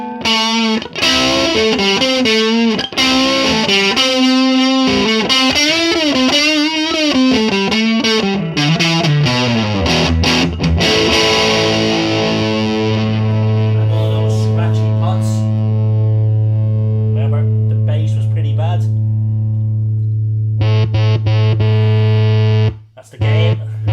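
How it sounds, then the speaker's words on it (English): Distorted electric guitar through a Marshall Valvestate 8020 amplifier, gritty bending melodic lines at first, then sustained droning chords ringing out with a short break near the end. "that Marshall grit sounded great"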